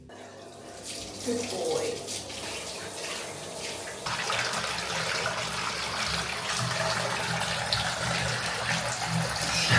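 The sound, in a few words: running water while bathing a dog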